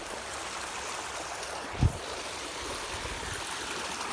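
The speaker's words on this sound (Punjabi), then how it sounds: "ਖਾਲਾ ਜਾਂਦਾ ਗੋਲੀ ਵਾਂਗੂ ਪਾਣੀ" Canal water rushes through a field channel on a farm as a quiet, steady flowing hiss, with one brief low thump partway through.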